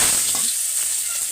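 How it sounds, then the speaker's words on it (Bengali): Chopped onion dropped into hot oil in a wok for a fish and potato curry, giving a loud, steady sizzle that fills the short stretch with no talking. "কড়াইতে তেলটা গরম হইতেছে, গরম হয়ে গেছে। এখন আমরা কুচি করা প্রথমে পেঁয়াজ আমরা দিয়ে দিব।"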